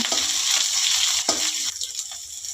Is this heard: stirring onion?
yes